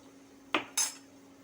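A spoon clinks twice against a cooking pot while cardamom powder is mixed into a thickened moong dal and flattened rice sweet, two quick metallic taps in an otherwise quiet kitchen.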